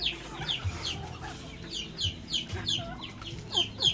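Repeated soft clucking from a brooding native turkey hen, short calls spaced roughly every half second, close by with faint background noise.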